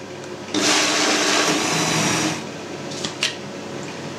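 A blender whirs loudly for about two seconds pureeing blue cheese cream soup, then cuts off, leaving a quieter hum with a couple of brief clicks.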